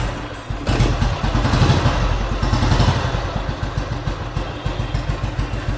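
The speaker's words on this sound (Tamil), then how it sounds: "ஸோ இப்போ நான் இதையும் ஸ்டார்ட் பண்ணி காமிச்சிடுறேன்." A restored 2003 Royal Enfield motorcycle engine cranks and catches after a brief pause, then settles into a loud, steady single-cylinder thump with mechanical clatter, close by and alone.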